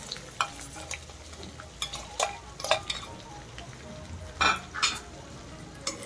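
Sliced onions fry in a pan for a vankaya aalu curry of brinjal and potato, with a soft continuous sizzle and repeated scraping stirs and clinks of a spoon against the metal pan, close by.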